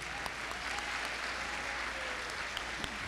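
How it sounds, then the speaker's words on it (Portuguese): A church congregation at a live evening service applauds to welcome pastor Zilda, a steady wash of clapping from many hands with a few sharper claps standing out near the end. "receber a pastora Zilda com a salva de palmas"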